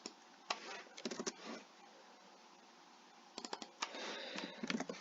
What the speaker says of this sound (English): when I'm typing this stuff in